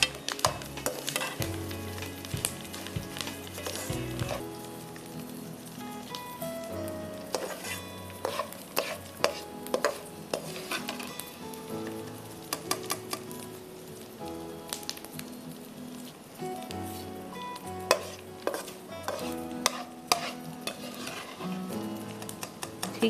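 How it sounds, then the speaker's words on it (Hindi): Jaggery and a little milk stirred into hot ghee in a pan for a Memoni mathar dish, with a steady sizzle and frying crackle, scraping stirs and occasional clinks of utensil on metal, close and continuous with no talk. "अब इसी घी में मैं गुड़ डाल दूँगी थोड़े से दूध के साथ, ताकि गुड़ जल्दी से मेल्ट हो जाए।"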